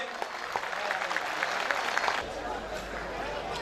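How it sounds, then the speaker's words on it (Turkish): Crowd at a Turkish municipal plaque ceremony applauding the arrival of the Buca mayor, a dense burst of clapping that holds steady and then softens into murmur and low rumble. "Buca Belediye Başkanı Sayın Ercan Tatlı Beyefendi'ye hoş geldiniz diyoruz ve alkışlıyoruz kendisini."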